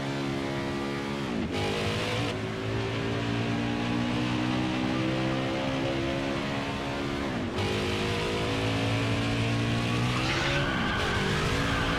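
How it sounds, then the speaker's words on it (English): In the NASCAR 21 Ignition video game, a race car does a burnout after a race at Las Vegas, its engine droning loudly and steadily while the tires squeal continuously, with pitch dips and resets every few seconds. "Now we're just wrapping up this burnout."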